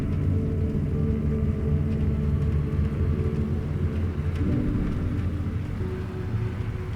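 Rain falls across a city plaza in the video game Alan Wake 2, a steady, dense wash of downpour with a low rumbling undertone that continues without a break.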